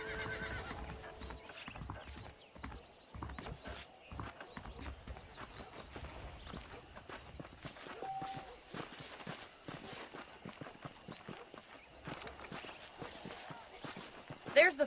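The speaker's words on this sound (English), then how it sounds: "The horses are saddled up over here." Horses in the Red Dead Redemption video game clip-clop and whinny at a moderate distance, hooves walking steadily under a low ambient bed with faint game sounds.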